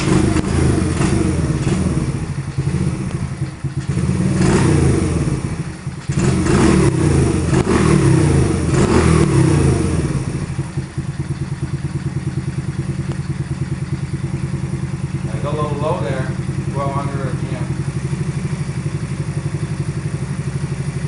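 A Baja Comet 90 minibike engine runs up close with rough, rattly idling and repeated revs that rise and fall through the first half, then settles into a steady clattering idle. There is no talking.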